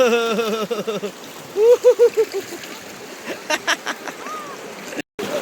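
A river stream flows in Phubanthad Valley, Satun, a continuous hiss of running water under people talking and calling out close by.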